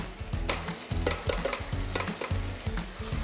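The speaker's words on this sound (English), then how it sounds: "Now mix this together until everything is well combined." A potato stew with garlic and grated ginger is stirred steadily in a pot, with repeated close scraping strokes over a soft sizzle and no talking.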